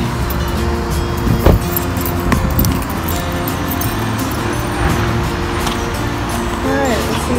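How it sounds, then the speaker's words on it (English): A car's steady road rumble fills the whole stretch at a constant level, with a couple of brief knocks and rattles near the start and no clear rise or fall of a single passing vehicle. "Oh, I didn't even cut out the car."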